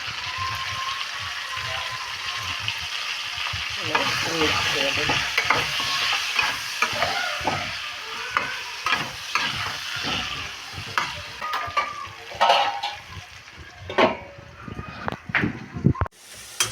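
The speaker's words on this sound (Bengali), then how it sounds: "আলুটাও লাল লাল করে ভাজা হয়ে গেছে" Potatoes sizzle and crackle in hot oil, with repeated scraping stirs of a spatula against the pan growing sharper toward the end.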